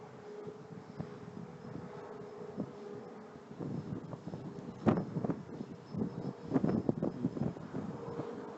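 Strong wind buffets the microphone outdoors in an open field during a WLToys V303 Seeker quadcopter flight, a rumbling gusty roar with a faint steady whine underneath and stronger bursts in the second half.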